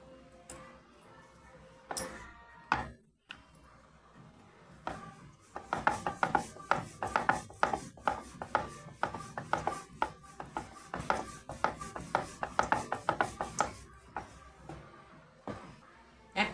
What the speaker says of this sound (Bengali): এবার আমি বেলে নেব।